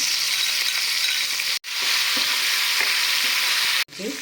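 Asafoetida, curry leaves and toasted coriander, cumin and mustard seeds sizzle steadily in hot oil, a loud continuous crackle broken by two brief silent cuts, with faint stirring underneath.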